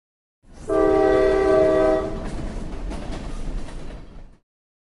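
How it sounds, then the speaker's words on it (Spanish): A train roars past with a loud, steady horn blast that holds for about a second and a half, then fades into the rumble and clatter of rolling railcars. "Tren."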